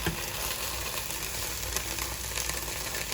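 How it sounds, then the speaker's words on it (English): Ground beef sizzling in a skillet over low heat, a dense, even crackle close by, running steadily without talk. "all this ground beef is going to go into our skillet"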